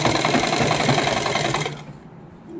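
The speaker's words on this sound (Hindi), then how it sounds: "यहाँ से अब इधर से गोलाई में सिलाई लगा देंगे बिल्कुल बुकरम के साथ साथ" A sewing machine stitches in a curve along the buckram of the inner lining of a heavy hand-worked suit. It runs loud and close in a fast, steady chatter for under two seconds, then stops.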